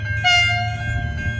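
A V/Line VLocity train sounds its horn at a level crossing near Melton South, Victoria: one loud, sustained multi-tone blast over a low rumble of the train.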